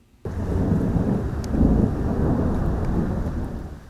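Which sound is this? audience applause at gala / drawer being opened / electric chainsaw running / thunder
thunder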